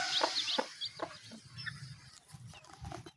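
Black Astro hen clucking faintly in a rural yard, a few short soft clucks and calls scattered among quiet background rustle, with a low murmur near the end.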